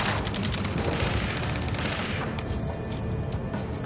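Gunfire in the video game Ace Combat 7: Skies Unknown, dense overlapping bursts of rapid shots and booms in a loud, continuous firefight.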